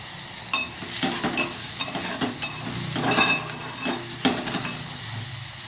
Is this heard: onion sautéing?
yes